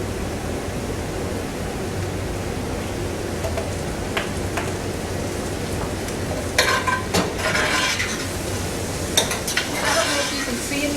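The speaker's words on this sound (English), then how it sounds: "now you can hear that it's starting to saute a little bit" Okra sautéing in a pan, giving a steady low sizzle with occasional sharp clinks of a utensil against the pan, close and continuous.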